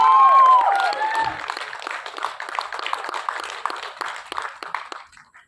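At a movie trailer launch in a Mumbai cinema, a shrill whistle or whoop opens, then scattered clapping for actor Randeep Hooda follows, fairly close and uneven before dying away.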